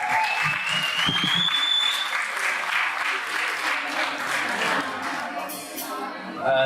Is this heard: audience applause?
yes